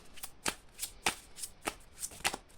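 Oracle cards being shuffled by hand, a series of about eight crisp riffling bursts in a steady rhythm, close and moderately quiet with no talking.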